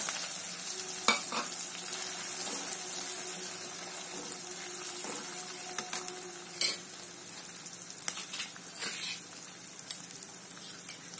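Green chillies fry in hot oil with garlic and ginger for a mixed pickle, giving a steady, close sizzle broken by several sharp clinks and scrapes of a stirring spoon against the pan.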